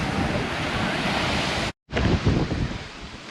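Steady, loud surf rolls onto Lanikai Beach on Oahu, with wind buffeting the microphone. The roar breaks off for a brief moment of silence and then resumes.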